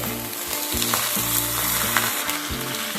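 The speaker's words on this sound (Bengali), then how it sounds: "এবার দিয়ে দিচ্ছি কেটে রাখা পেঁয়াজ কলি" Onion stalks drop into a pan of eggplant and beans frying in hot oil, giving a loud, steady sizzle with rhythmic thuds and scrapes from stirring all through.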